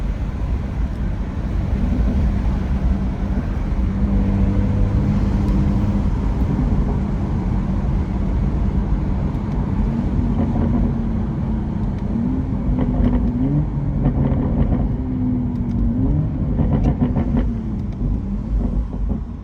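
A car engine drones steadily while driving through northern Colorado, with rising and falling revs as paddle-shifted gears change, loud and continuous against road rumble.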